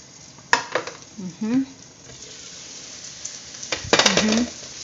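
Chopped garlic browning in a frying pan for creamy pineapple chicken, soft sizzle with a few sharp clinks and scrapes of a utensil against the pan, and someone speaking briefly.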